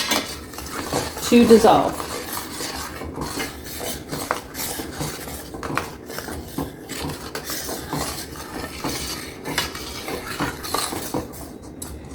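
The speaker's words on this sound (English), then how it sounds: "Make sure you're stirring constantly because you want all of this" A spoon scrapes and clinks steadily around a pot of blueberry jam, close and fairly continuous, with a brief louder clatter near the start, while someone talks over it.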